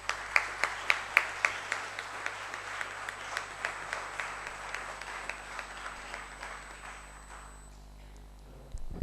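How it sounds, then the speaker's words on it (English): Audience applause at a student investment course finale: a few loud, sharp claps up front, then a thinner, steady patter from the crowd that fades out near the end, over a constant low hum. "Please give him a huge round of applause."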